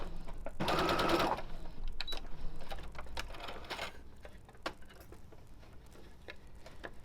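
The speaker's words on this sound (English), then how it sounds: "So just turn it over, start at the back seam and sew the opposite direction." A home sewing machine back stitches a skirt seam in a burst of rapid, steady mechanical chatter near the start, then stops, leaving quieter handling clicks and soft rustles of fabric.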